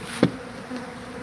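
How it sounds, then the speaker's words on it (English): Honey bees buzz steadily at an opened winter hive with a cluster feeding on fondant, a close continuous drone with a brief knock near the start and no talk. "Looks like there's a pretty good cluster of bees over here."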